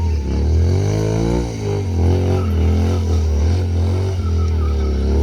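A revving engine roars steadily with rising and falling pitch as tires spin during a stunt show at Leeds Castle, loud and close, with no voices.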